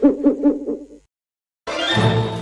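Owl hooting in a radio show jingle, five rhythmic hoots in quick succession, then a short silence before a bright musical sting bursts in loudly.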